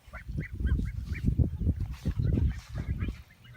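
Several ducks honk and quack repeatedly in a close, noisy chorus in a garden, calls overlapping in quick uneven bursts.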